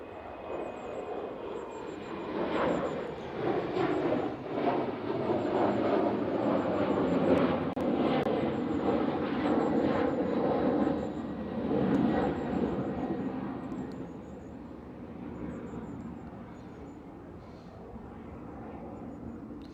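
An airplane takes off at Manchester Airport, its jet engines building into a broad, distant roar that swells, holds for several seconds and then slowly fades.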